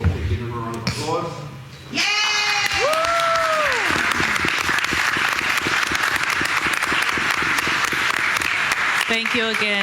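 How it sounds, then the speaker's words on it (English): Speech, then a burst of dense audience clapping at a board of education meeting that swells and holds steady, with cheers and whoops rising over it and talk resuming at the close. "Give them a round of applause."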